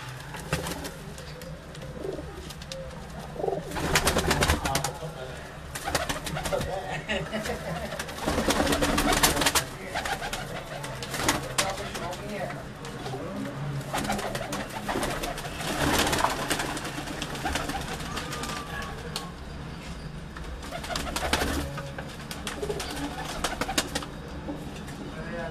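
Fancy pigeons kept by a breeder coo in a loft, soft overlapping throaty calls from several birds nearby, with occasional rustling and wing bursts and faint background talk.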